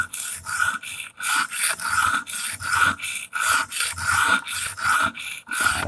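A Damascus steel dagger is drawn across the stone of an Edge Pro Apex sharpener in steady back-and-forth strokes, each a close, gritty rasp about every half second, with no talking over it.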